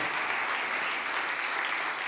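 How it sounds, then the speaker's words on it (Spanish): Steady, dense applause from a church congregation, filling the whole moment without a break, with no voices rising above it. "Denle un aplauso fuerte a Jesús."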